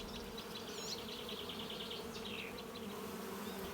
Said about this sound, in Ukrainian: Ніякі лікарі не можуть допомогти краще, ніж оця бджолина музика.